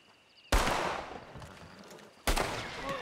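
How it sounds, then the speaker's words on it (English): Two loud gunshots in a Red Dead roleplay game, about two seconds apart, each a sharp crack followed by a rolling echo that fades out, with no talking. "Oh, that was a good shot."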